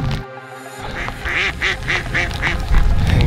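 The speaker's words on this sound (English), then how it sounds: "I got some hungry ducks over here." Hungry ducks quack outdoors in heavy snow, a rapid series of about seven nasal calls at close range over a steady background hiss.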